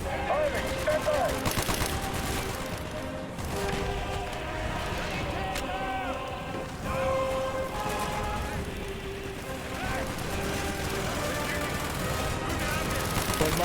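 Gunfire from the Call of Duty: Black Ops campaign, a dense, continuous barrage of shots and bursts running throughout under shouted voices and game music.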